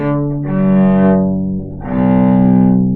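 An in-tune cello sounds two long, sustained bowed notes, warm and resonant, played close with a short dip between them.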